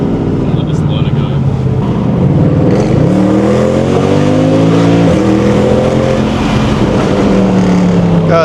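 A Mercedes C63 507 Edition V8 drives and revs hard, a loud, continuous engine roar that climbs and falls in pitch through repeated throttle sweeps, heard from inside the car, with talk underneath.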